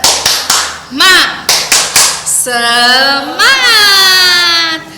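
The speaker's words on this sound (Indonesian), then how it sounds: "Tepuk semangat" Children at a Sunday school worship service clap in a quick rhythmic pattern, several sharp claps in a row, then break into a loud, sustained group chant of drawn-out voices close by.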